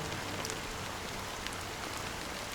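Fine drizzle of black rain in the video game Honkai: Star Rail falls as a dense, even hiss with soft patter throughout, a constant wash with no voices over it.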